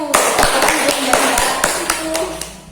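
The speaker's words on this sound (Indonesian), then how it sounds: "beri tepuk tangan untuk kelompok 1" A classroom of students claps for a student group during an Al-Qur'an Hadits teaching practice session, with scattered sharp hand claps over a murmur of voices and some talking through the short burst.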